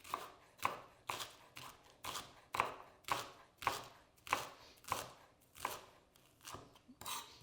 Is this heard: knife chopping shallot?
yes